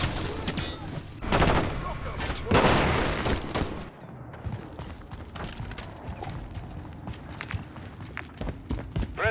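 Heavy gunfire in Call of Duty MW3 multiplayer, bursts of loud automatic shots and booms up close, then scattered distant shots and footsteps, with game voice callouts mixed in.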